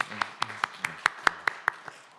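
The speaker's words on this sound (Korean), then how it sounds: "그럼 우리 서로 박수 한번 칠까요?" A church congregation claps together in a steady, even rhythm of about ten sharp claps, loud and close, with no one speaking.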